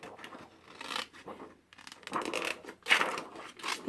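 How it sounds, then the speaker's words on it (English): Scissors snip through clear acetate pieces for a heart shaker card, a run of close, crisp cuts arriving in quick bursts with brief pauses between them. "So you want to cut these pieces off."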